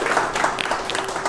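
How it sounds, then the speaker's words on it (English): An audience at an invited speech applauds, a dense burst of close hand clapping that carries on evenly for the short span. "Please give a big round of applause for that gentleman."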